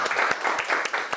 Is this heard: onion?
no